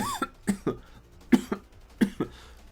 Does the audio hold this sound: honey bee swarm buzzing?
no